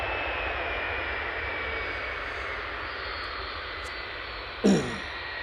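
A Boeing 757 jet departing Manchester Airport on a flight to Malaga: a loud, steady engine roar with broad rushing noise holding across the whole stretch, and a brief sharp thump close by near the end.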